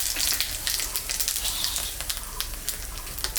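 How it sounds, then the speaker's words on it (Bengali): Cumin seeds and dried red chillies sizzle in hot oil left over from frying fish, a bright crackling hiss with scattered sharp pops, close and steady. "জিরা আর শুকনো লঙ্কা সম্বরা দিচ্ছি"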